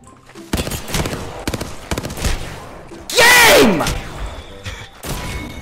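Havoc energy rifle fire in Apex Legends during a close fight, with bursts of shots throughout and a loud, sweeping blast mid-clip, mixed with game sounds and chatter.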